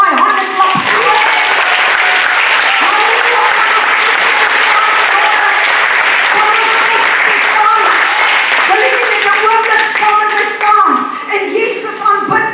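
Church congregation clapping their hands loudly for Jesus during worship, a dense sustained ovation lasting about twelve seconds, with voices calling out over the clapping.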